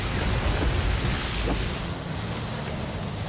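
Heavy roar of a large waterfall in Hawaii, heard from a paddled boat on the river below, a steady broadband rush of falling water with wind buffeting the microphone, loud and unbroken.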